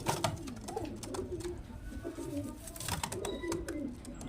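Pigeons kept for sale cooing close by, low soft burbling coos repeating through the stretch with scattered clicks and rustles, no talk.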